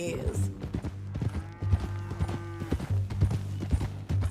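Horse hooves clip-clopping on a trail in Red Dead Redemption 2, an even walking rhythm of close, crisp hoof strikes under men's conversation.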